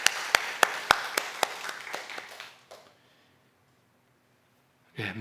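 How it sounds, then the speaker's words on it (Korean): A church congregation applauds after a prayer at a midweek service: a short run of sharp, fairly even claps that thins out and fades within a few seconds, followed by near silence and a brief rustle at the end. "우리 주님께 영광의 박수 올려드리겠습니다"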